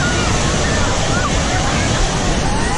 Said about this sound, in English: Here's the waves now.